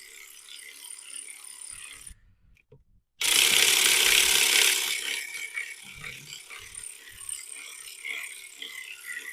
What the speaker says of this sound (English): I'm going to loosen this 12 millimeter right here underneath this belt